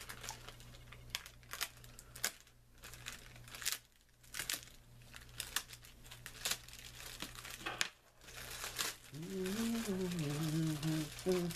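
Packaging for a model locomotive, an MTH GE ES44AC, being cut open and unwrapped: crinkling and tearing of plastic and cardboard in irregular close bursts, followed by a steady louder stretch with a tonal hum, and people talking.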